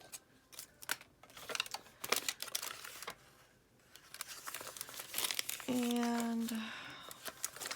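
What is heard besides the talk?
paper envelope being trimmed and crinkled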